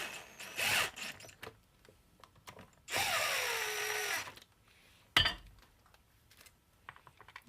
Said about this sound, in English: let's get a couple of these screws in here to hold this all together